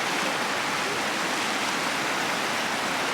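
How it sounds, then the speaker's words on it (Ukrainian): A small waterfall spilling over river rapids, a steady, dense rush of water heard up close, continuous and loud with no voices over it. "Дивись, якийсь водоспадок маленький."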